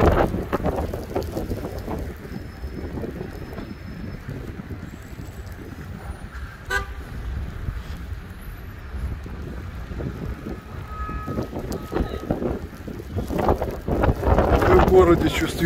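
Blizzard wind howls through Karaganda in a steady, broad roar with driving snow, rising and gusting louder toward the end.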